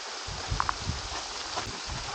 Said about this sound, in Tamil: ஃபுல்லாக மழை பெய்ய ஆரம்பிச்சிச்சு.